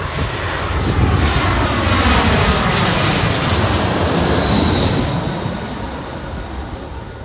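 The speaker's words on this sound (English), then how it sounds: "BA's A380 coming in from Jersey." A British Airways Airbus A380 airliner comes in to land near the airport perimeter, giving a loud, close, broadband jet engine roar that builds, holds, then slowly fades.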